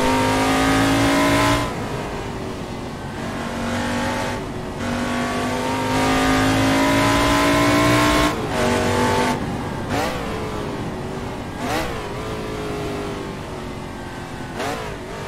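A prototype race car from the AC Legends mod in Assetto Corsa revs hard and loud, its engine tone climbing and dropping through repeated gear changes and throttle lifts.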